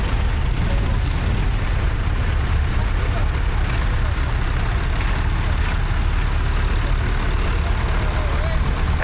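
Vintage International B414 tractor engine running steadily at an agricultural show, a loud continuous low rumble with outdoor crowd noise and speech around it.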